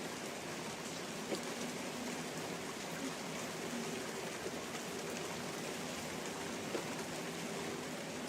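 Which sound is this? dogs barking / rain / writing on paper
rain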